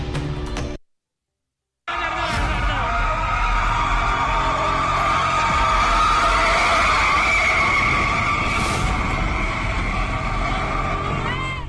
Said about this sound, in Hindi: जहां एक कंटेनर कार को काफी दूर तक घसीटता रहा। काफी डरावनी आवाजें आती रहीं।